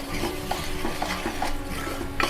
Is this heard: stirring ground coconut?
yes